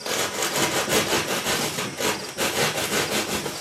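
Rasping on the body of a homemade moose target, a continuous coarse scraping in quick back-and-forth strokes, close and fairly loud with no talk.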